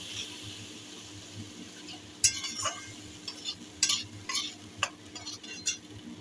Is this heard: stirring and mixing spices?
yes